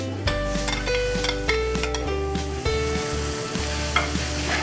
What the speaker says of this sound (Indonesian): Tumis sebentar aja.